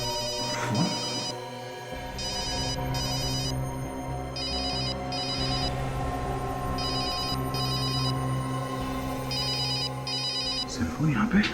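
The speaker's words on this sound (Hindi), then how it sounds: "सेलफोन यहाँ पे, प्राइवेट नंबर।" A cellphone rings with a call from a private number, its electronic ringtone repeating in regular paired bursts over a steady background hum for several cycles, loud and close.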